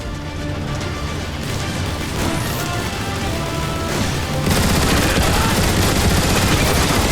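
Turret gun emplacements fire at Decepticon Seekers in the Transformers: War for Cybertron video game, a dense, continuous stream of rapid gunfire and crashes that grows louder partway through, backed by a steady mechanical roar.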